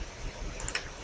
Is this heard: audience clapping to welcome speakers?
no